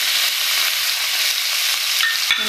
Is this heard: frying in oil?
yes